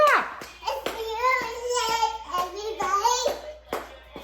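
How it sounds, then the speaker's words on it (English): Sharp hand claps at home ring out in a loose, irregular beat, close and crisp, while a voice sings and talks over them throughout. "Clap!"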